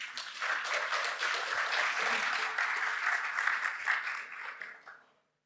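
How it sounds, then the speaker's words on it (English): A conference audience claps warmly, a dense, sustained round of applause from a sizeable crowd that holds steady for about five seconds and then quickly fades to silence. "Let's give them all a warm round of applause."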